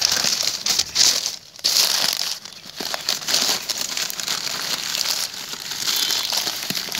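A packet holding dahlia bulbs mixed with organic manure and thimet is folded by hand, making loud, close crinkling and crumpling that rises and dips in waves for several seconds, with no talking.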